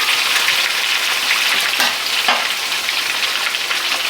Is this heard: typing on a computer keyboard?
no